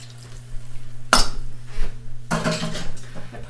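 Ingredients for a Blue Apron romesco shrimp and couscous skillet dropped into a skillet: metallic clatters and scrapes of the pan and utensils, with a sharp clank and a later busier stretch of stirring and sizzle, close by.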